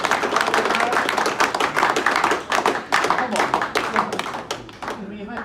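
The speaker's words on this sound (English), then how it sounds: "You can applaud everybody." Hands clap in a lively burst of applause from an audience at a school reunion assembly, close and dense, tapering toward the end.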